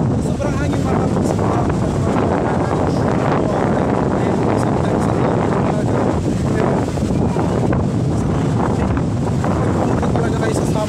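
Loud, constant wind buffeting the microphone on Samal Island, a dense roar that never lets up, with a hint of water and boat noise beneath.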